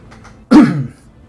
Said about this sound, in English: Sorry guys, I keep coughing.